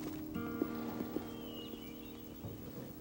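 A horse's hooves clip-clop faintly at a slow, uneven walking pace, a few distinct knocks over a quiet background.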